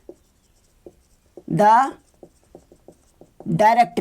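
Faint, irregular marker or chalk ticks and scratches from writing on a board during a Class 11 maths lesson on parabolas, scattered between bursts of a teacher's nearby speech.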